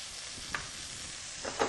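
Pork chop cooking juices bubble and sizzle in a pan, a faint steady fizz with a few soft clinks, without speech.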